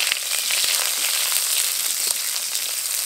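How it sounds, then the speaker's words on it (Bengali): Raw green banana pieces fry in hot oil for shukto, a bright crackling sizzle with scattered pops, steady and close throughout. "কাঁচকলা দিয়েও ভেজে নেব।"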